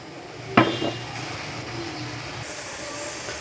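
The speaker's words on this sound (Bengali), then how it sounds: "এবার আমি দিয়ে দেবো হালকা ভেজে রাখা চিংড়ি মাছ" Lightly fried prawns dropped into a pan of spiced masala with turmeric, coriander and Kashmiri chilli powder, giving a sharp clatter and sizzle followed by steady frying and stirring.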